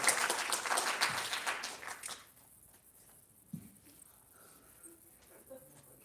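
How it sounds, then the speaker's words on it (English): An awards-ceremony audience gives a burst of applause that fades out after about two seconds, followed by a quiet room with a few isolated sounds. "give her a round of applause"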